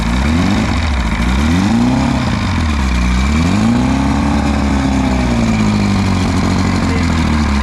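A V-4 outboard motor on a Starcraft Jet-Star boat runs loud and steady, its pitch rising and falling in smooth swells as the throttle is worked, with no talk over it.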